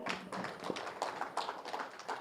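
Applause from a seated audience welcoming a senior pyramid meditation master to the stage, a steady dense patter of many hands clapping at moderate volume, with no talk over it.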